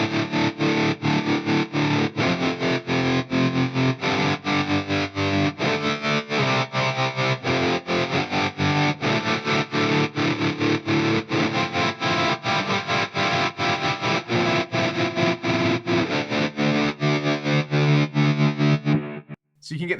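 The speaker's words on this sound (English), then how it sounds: "I've got a triangle and a sine, and this is what it sounds like. It's like a really weird trem." A heavily processed, distorted guitar tone from an Axe-Fx III pulses in a fast, choppy tremolo, chopping the sound rhythmically on and off throughout.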